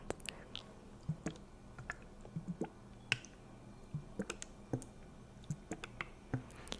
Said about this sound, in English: Okay, not water sounds, hydrogen peroxide sounds.